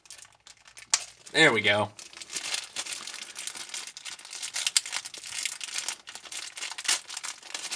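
Packing tape is peeled off a Zoids Wild Liger toy box in one brief, close crackling rip, followed by softer rustling of cardboard and someone speaking briefly.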